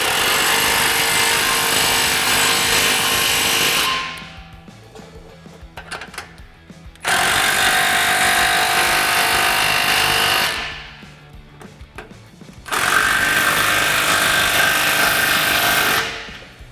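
A power tool, likely an impact gun, runs in three long loud bursts with brief pauses between them, tightening 15 mm exhaust clamps on a 2021–2022 Ford F-150 during a Roush single exhaust install.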